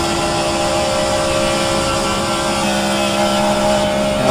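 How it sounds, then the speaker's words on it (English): A stock car in a Daytona racing simulator game roars with a loud, constant engine drone that holds at a steady pitch throughout, close and dominant with no talk over it. "Man, a loud engine sound there."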